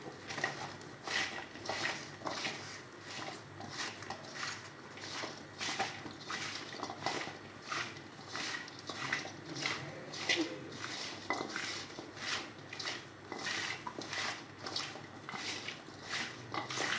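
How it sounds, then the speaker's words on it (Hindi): Potato chips are tossed and mixed by hand in a bowl, a steady rustling patter with light clinks against the bowl, continuous and close at low volume. "इसे ऐसे मिक्स कर लें अच्छी तरह।"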